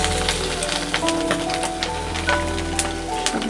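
Fried pieces of bottle gourd and chickpeas are added to a pan with egg and spice paste, producing a loud, steady, close crackling sizzle that carries on throughout.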